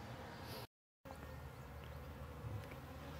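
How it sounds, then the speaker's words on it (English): A swarm of honeybees gives off a dense, steady buzz, with one very brief drop to silence near the start; no voices are heard. "I like to investigate it with a real swarm, a swarm of bees."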